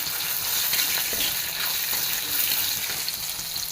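Onions and green chillies fry in a pan with a dense, steady hiss of hot oil, loud and close throughout, with a faint stirring movement now and then and no voices.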